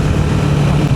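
A KTM 390 Enduro R motorcycle engine runs at a steady 3,000 RPM, a continuous close, even drone with a firm low hum and no speech.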